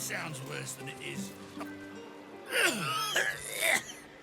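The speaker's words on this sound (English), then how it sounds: "we've got people coughing right next to it." Several game characters cough and clear their throats in Baldur's Gate 3, a few rough bursts clustered toward the end over a low ambient bed, with other voices murmuring nearby.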